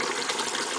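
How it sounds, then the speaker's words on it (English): Boiled eggs and their hot water are poured into a bowl of cold water in a home kitchen, a brief steady gush and splash heard close and fairly loud with no talk. "I'm going to pour this exactly into some cold water"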